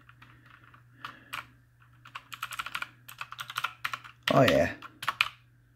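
Fingers type on an AUKEY 104-key gaming keyboard, a close run of soft clicks in quick bursts, with a brief spoken remark partway through.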